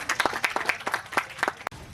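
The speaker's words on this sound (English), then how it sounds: "give yourselves a round of applause" Scattered hand claps ring out in a brief burst, a handful of people clapping unevenly for about two seconds.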